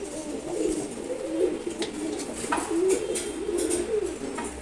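Red chulli pigeon cooing close by, repeated soft rolling coos in a steady series over faint background noise, with no talking.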